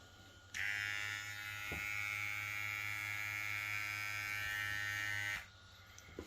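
A VGR V008 electric clipper switches on and runs with a steady, loud, high-pitched buzzing hum for about five seconds, then cuts off abruptly.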